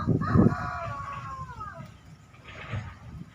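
A rooster crows from a chicken coop on a farm, a drawn-out call rising and falling at moderate distance, with other soft fowl sounds and background noise around it.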